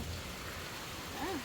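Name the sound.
rain falling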